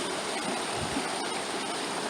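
Steady broadband rush of the silty, glacier-fed Hoh River flowing through a fog-shrouded forest valley, continuous and fairly close with no voices over it.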